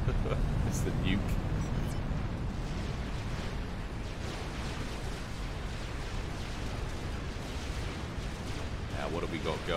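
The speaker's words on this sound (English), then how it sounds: "It's the nuke." A nuclear strike detonates in a Supreme Commander 4v4 match on Seton's Clutch, a dense, roaring low rumble that fills the whole stretch at steady loudness, with faint crackles layered on top.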